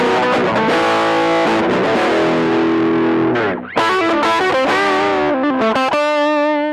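Distorted electric guitar through a Zoom G2.1u multi-effects pedal, a raspy, abrasive tone: loud chords ring out, a brief dip near the middle, then choppier notes and a final sustained chord, with no talking.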